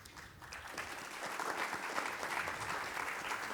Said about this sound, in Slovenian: Prišparajte še tale aplavz za trenutek